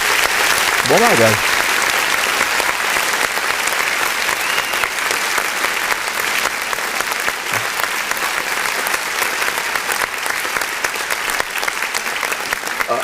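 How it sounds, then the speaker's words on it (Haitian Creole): Audience applauding the ladies at a church gathering; loud, continuous clapping from a crowd carries on throughout while someone briefly speaks over it at the start. "faut me battre un gros bravo pour mesdames yo"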